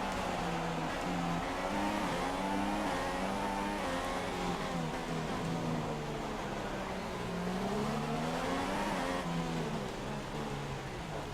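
Formula 1 race car engines in the F1 2016 video game at Monaco, a loud, continuous high-revving whine rising and falling with gear changes and acceleration, with no speech over it.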